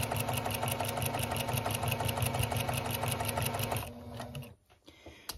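A sewing machine runs steadily, stitching binding onto the edge of a baby quilt, with a fast, even mechanical whir close by before it slows and stops near the end.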